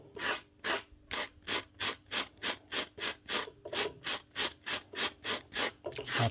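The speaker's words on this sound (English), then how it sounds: "Just a rougher sanding block is all you need." A rough sanding block scrubs hard spots of corrosion off a part inside a power tool being repaired, making rapid, even back-and-forth rasping strokes, about three per second, close and steady with no voices.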